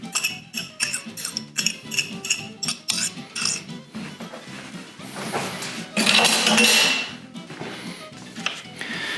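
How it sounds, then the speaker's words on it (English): Eggs being whisked in a bowl for an Italian dessert dough, with quick rhythmic metal clinks and scrapes against the bowl, close and fairly loud, easing into a steadier rattle near the end. "We're gonna give it a little bit more of a whisk. Make sure it's whisked up nice."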